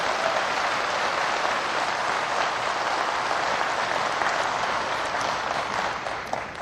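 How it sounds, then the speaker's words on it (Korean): A large audience gives sustained, dense applause that holds at an even, loud level throughout before easing slightly at the very end. "한번 웃는 얼굴 가지고 박수 한번 해주시."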